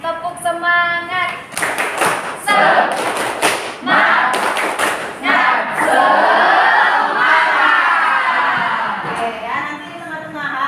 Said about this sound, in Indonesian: Kita ice breaking tepuk semangat.